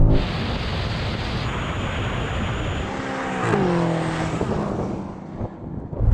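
A 1000-horsepower BMW M5 drag racing down a runway roars steadily and loudly, with wheelspin, then rising and shifting engine tones as it changes gear and the sound fades away.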